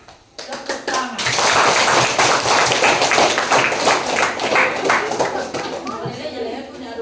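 School students clap their hands together during an information session at a junior high school in Tolitoli. Lively, rhythmic clapping starts after a few taps and keeps going, close by, with children's chatter and voices mixed in.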